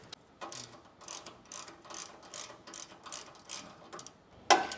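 Ratchet wrench with a 12mm socket backing out bolts on a Toyota Tacoma during a front bumper install, giving bursts of rapid clicking repeated in rhythmic strokes, close and moderately loud, ending with a sharp metallic clank.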